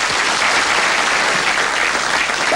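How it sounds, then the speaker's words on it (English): A television quiz-show studio audience applauds two Jeopardy UK contestants at the end of a round, a loud, dense, even roar of many hands sustained without a break. "And both of you, please, share this round of applause"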